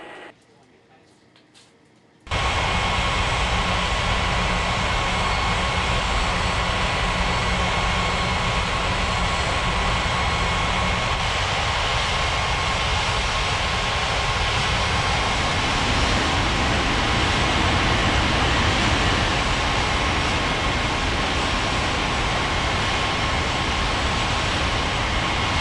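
A jet airliner's engines roar steadily in an air traffic control game, a broad loud rush that swells after a brief quiet start and holds for over twenty seconds, with a faint low hum early on.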